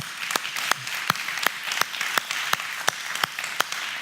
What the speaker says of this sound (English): you deserve a round of applause. So clap for yourselves with me real quick